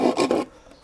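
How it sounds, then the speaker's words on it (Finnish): Hand rasp filing wood off a drawer lock, two quick scraping strokes close up, then quiet room tone. "Raspilla otetaan pikkusen tuosta pois"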